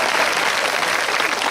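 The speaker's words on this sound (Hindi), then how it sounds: "एक बार जोरदार तालियां बजाएं।" Loud, dense applause from an audience at a girls' higher secondary school quiz event for National Voter Day, a brief unbroken roar of many hands clapping.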